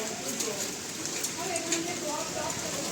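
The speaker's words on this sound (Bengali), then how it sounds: "দেখো বাইরে বৃষ্টি হচ্ছে" Rain falling outside a home, a soft steady patter with scattered drips, fairly faint and continuous, heard behind a person talking indoors.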